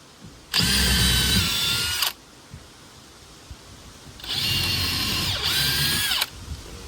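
Two loud bursts of a power drill whirring as it drills into a tub, each about one and a half to two seconds long, separated by a quiet pause, close by.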